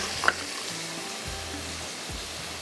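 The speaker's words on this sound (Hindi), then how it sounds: "बस अभी कीमा भुन ही रहा है" Minced keema browning in a pan, a continuous close sizzle and crackle with a few soft scraping stirs of a utensil, no voices.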